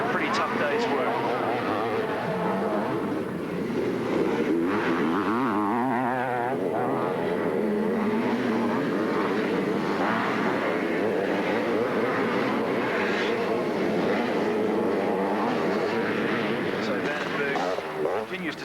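A Suzuki motocross bike engine droning steadily at a 1983 race in Broadford, loud and continuous, with a commentator talking over it throughout.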